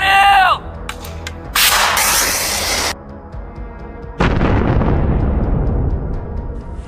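Loud blasts of gunfire or artillery in war footage, with a sharp burst at the start, a long roaring segment, then a heavy boom at about four seconds that rolls into a sustained rumbling decay.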